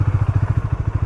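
A motorcycle carrying two riders chugs along with a loud, rapid, regular engine throb close by.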